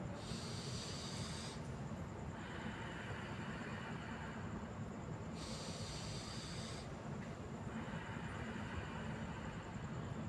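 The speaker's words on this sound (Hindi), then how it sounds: "दोनों नासिकाओं से सांस को छाती में भरना है" Deep inhalations drawn through both nostrils into the chest during a yogic breathing exercise, heard as steady loud rushing airflow, with two sharper, hissier breath passages standing out at intervals and no talking.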